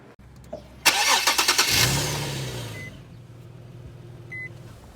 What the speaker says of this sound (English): the car sounded like it didn't want to start, like the battery was dead